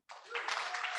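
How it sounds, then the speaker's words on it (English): Audience at a panel discussion breaks into a brief, dense burst of applause, a broad wash of clapping that starts abruptly, with a voice speaking over it. "Big applause, thank you."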